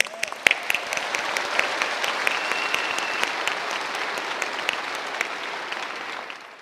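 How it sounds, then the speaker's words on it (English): Dense, steady applause from a large university commencement crowd, with scattered sharp claps standing out up close, holding level for several seconds before fading at the end. "Let's give her one more round of applause."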